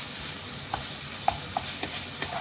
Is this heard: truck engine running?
no